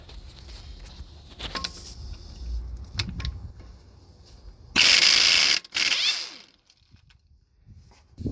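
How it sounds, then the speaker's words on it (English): A ratchet fitted with a 1/2-inch 12-point socket works the pinion yoke bolts on a Freightliner Cascadia truck. Scattered clicks come first, then a loud, dense burst of rapid ratcheting in the middle, fading to quiet. "we're gonna be using a 1/2-inch socket"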